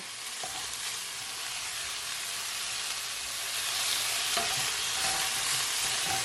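Chicken and vegetables stir-fry in a hot pan with a steady, broad sizzle that swells slightly louder toward the end, with a few faint clinks of stirring and no voices.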